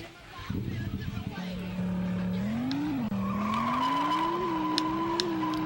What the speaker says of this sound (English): I'm on a scooter now.